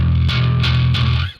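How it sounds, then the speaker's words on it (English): A bass guitar with gritty overdriven distortion plays a few sustained notes, loud and close, cutting off near the end. "You hear that distortion on my bass?"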